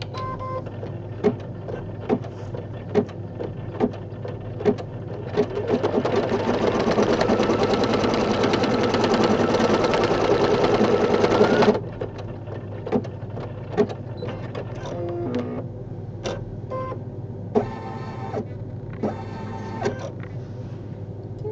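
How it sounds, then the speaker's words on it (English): Home embroidery machine stitching a placement line on fabric in a hoop for a Valentine rug project, a steady rapid mechanical whir with clicking lasting about six seconds, preceded and followed by quieter clicks and handling noise. "We're going to run fabric number 12's placement stitch at the top."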